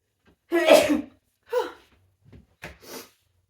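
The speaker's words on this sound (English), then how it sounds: "I have a sneeze." A single loud sneeze bursts out up close, followed by a few short sniffs and breaths.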